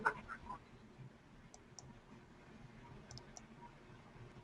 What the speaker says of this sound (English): I'm clicking, but nothing's happening.